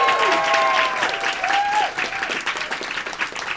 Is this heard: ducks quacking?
no